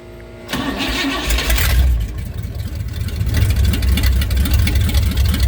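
A Pontiac 389 V8 engine cranks, catches, and settles into a loud, rough idle with a deep rumbling rhythm, close by and without talk.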